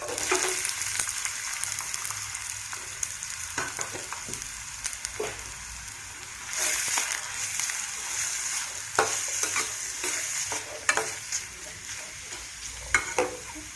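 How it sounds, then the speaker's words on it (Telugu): Sliced onion and green chillies sizzling and frying in hot oil, a steady crackling hiss with occasional stirring scrapes, moderately loud and close, with no voices. "ఆయిల్ వేడెక్కింది కండి సన్నగా కట్ చేసిన ఉల్లిపాయ పచ్చిమిరపకాయ వేసుకో"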